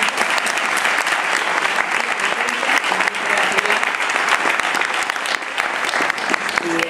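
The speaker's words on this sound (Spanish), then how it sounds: "Un aplauso para ella." Dense, steady applause from a seated audience at a book collection presentation, continuous and fairly loud throughout with no pauses.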